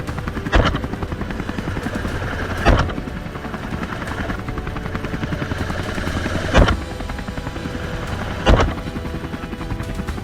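A helicopter's steady rotor and engine roar runs throughout, loud and close, during a wild boar hunt from the air, broken by a few sharp, isolated bangs spaced several seconds apart.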